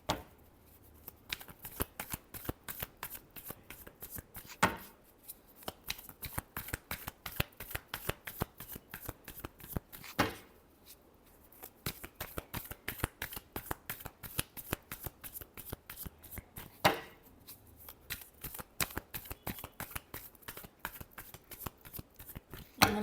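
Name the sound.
shuffling tarot cards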